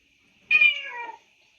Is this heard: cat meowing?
yes